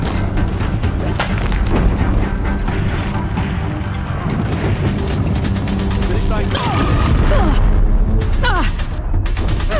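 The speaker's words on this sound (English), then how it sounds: "If the Deathbringers keep firing, this bridge will go." Deathbringer machines firing on a bridge in Horizon Zero Dawn, the final battle against Hades: dense, continuous crashing blasts and booms layered with mechanical clatter, loud and close throughout, with voices talking over the din.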